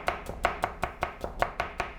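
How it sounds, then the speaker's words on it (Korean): A kitchen knife strikes a cutting board in straight perpendicular chopping cuts during a cooking lesson, about ten crisp, evenly spaced knocks in a quick steady rhythm, close and clear with no voices. "직각썰기 같은 경우는 지금 소리가 어떻죠?"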